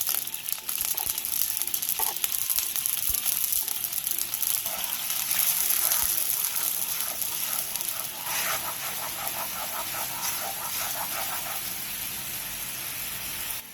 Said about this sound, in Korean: 팬에 물 5스푼과 설탕 4스푼을 넣고 중약불에서 끓여주세요.